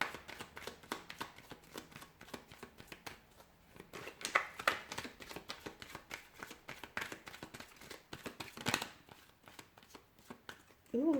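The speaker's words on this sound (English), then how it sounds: "give the cards a shuffle," Tarot cards being shuffled by hand, a rapid run of crisp riffling slaps and flutters at close range, quiet overall with brief louder bursts and a little soft speech.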